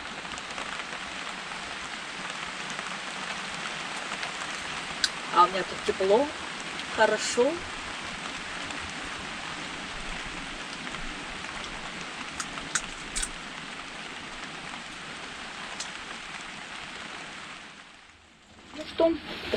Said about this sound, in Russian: Дождик-то все-таки пошел.